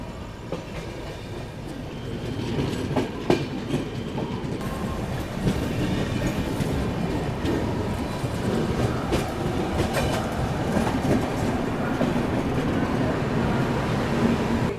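The Prayagraj Express, an Indian express train, runs on rails with a steady loud rumble and rhythmic wheel clatter that continues throughout, with no talking.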